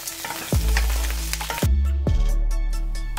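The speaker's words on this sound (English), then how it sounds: "next, tofu in. Let's coat them with the aromatics." Tofu hits a hot pan of aromatics and sizzles loudly and continuously, with a few sharp clatters of a spatula stirring and turning it at close range.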